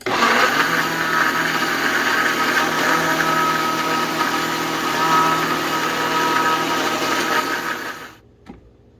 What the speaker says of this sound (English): I'm just going to put it in my blender there, my Vitamix, and I'm going to add a little bit of water to it, and then I'm going to pulse it a bit.